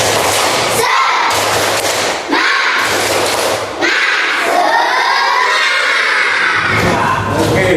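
Children in a classroom perform a rhythmic clapping chant, loud bursts of shouting and clapping that come in repeated waves with short pauses between them.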